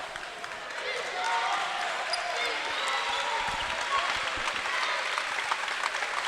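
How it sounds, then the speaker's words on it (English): A basketball home crowd applauds during a timeout late in a college men's conference tournament quarterfinal, a steady, fairly distant wash of clapping and crowd noise lasting several seconds. "As a round of applause here from the Pacer Nation, Pacer audience"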